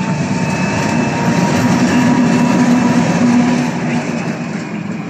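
Express train Fatran 934 idles at a station platform in Zvolen, producing a steady, loud mechanical hum and rumble with a faint tonal whine running through it.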